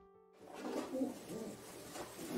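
A blue bar racing pigeon coos softly in a low, rolling rhythm, giving several muffled coos in a row in a quiet indoor setting.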